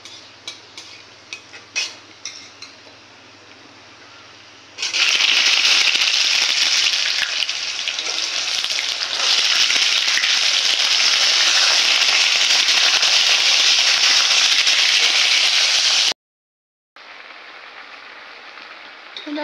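Potato and eggplant pieces dropped into hot oil tempered with cumin and chilli burst into a loud, steady sizzle that carries on for about eleven seconds, cuts out briefly, then resumes, after a quieter stretch of scattered clinks and kitchen handling.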